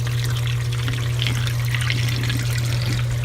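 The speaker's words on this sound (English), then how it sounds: "Here's the draining process." An Avanti STW20D2P portable washing machine drains water through its hose, a steady splashing, trickling flow over a constant low machine hum, loud and close, with no talking.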